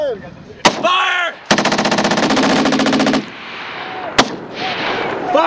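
Marine Corps machine gun section firing at 29 Palms on a target bunker 500 meters out: a single sharp shot, then a loud, rapid, sustained burst lasting nearly two seconds, followed by another lone report and lingering echo.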